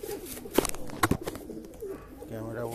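A pigeon gives a few soft coos while being caught by hand, mixed with sharp handling noises and a low voice nearby.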